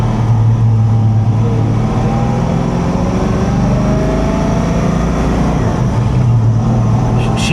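A supercharged stroker Mustang GT engine idles loud and steady up close, a continuous deep rumble with a slight swell in revs midway, no one speaking over it.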